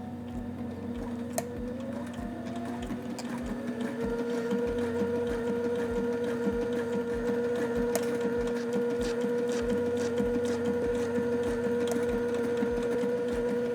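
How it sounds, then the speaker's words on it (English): Sewing machine stitching a wide hem, a steady mechanical hum with a rapid regular needle tapping rhythm that speeds up and continues evenly for many seconds, close and alone without talk. "Now we're going to sew this into place, and we're going to sew a stitch line on each edge and down the middle"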